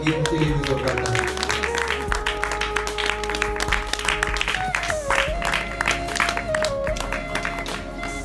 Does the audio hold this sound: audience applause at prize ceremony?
yes